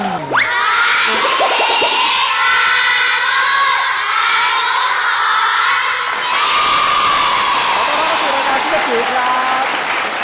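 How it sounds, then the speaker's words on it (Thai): A school cheering squad at a Thai children's TV game show shouts and cheers loudly, with high children's voices whooping over clapping in a continuous, energetic crowd din. "หนวยกองเชียร์ของเรานะครับ มาจากโรงเรียน"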